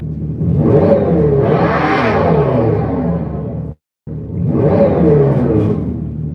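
A 2024 Dodge Charger Daytona Banshee electric muscle car lets out two loud, rumbling whooshing surges with a sharp break between them, up close and without talk.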